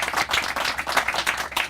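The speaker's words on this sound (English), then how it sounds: "I think they deserve an extra round of applause" Clapping from an audience at the dedication of a river heritage trail section, honoring county commissioners; a steady, fairly close patter of many hands with no talk over it.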